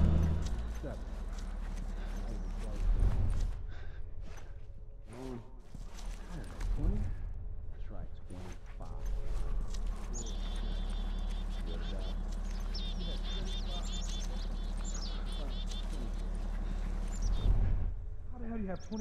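Horse hooves clip-clop in The Last of Us Part 1, a run of distinct thudding steps at a walking rhythm mixed with game sounds, and people talk over much of it.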